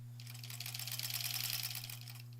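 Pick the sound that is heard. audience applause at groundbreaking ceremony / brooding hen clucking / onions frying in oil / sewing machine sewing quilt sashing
sewing machine sewing quilt sashing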